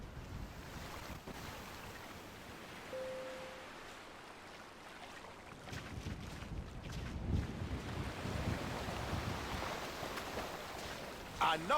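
Wind and ocean waves at a beach, steady gusty rush with buffeting on the microphone and surf swelling louder toward the end.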